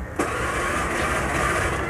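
Old motorcycle being kick-started or cranked at night: a mechanical engine churn cuts in abruptly after a brief quiet moment and holds steady and fairly loud for under two seconds.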